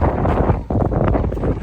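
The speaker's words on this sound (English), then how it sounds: "It's really windy here today." Strong wind at sea on an Atlantic ocean crossing from Gran Canaria roaring and buffeting against the microphone, a loud continuous rumble with gusty surges and no voices.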